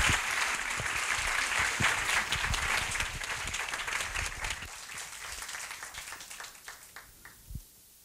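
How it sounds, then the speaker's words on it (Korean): A large audience at a Veritas Forum event at Korea University applauds warmly to welcome a professor, sustained dense clapping that gradually thins and fades out, ending with a few scattered claps. "큰 박수로 환영해 주십시오."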